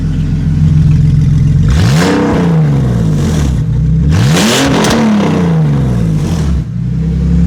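A warm BMW E46 engine with new catalytic converters, revved hard twice from idle. Each rev swells into a loud, raspy exhaust roar and falls back to a steady, rumbling idle, close and without voices.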